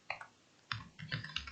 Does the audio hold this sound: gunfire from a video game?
no